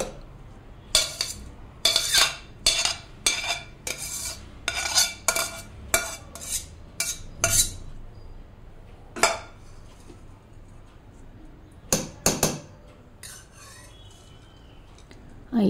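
Metal spoon scraping and clinking against a biryani pot as rice is spread in layers for a prawn dum biryani, a rapid run of sharp scrapes and taps, then a pause and a few scattered knocks.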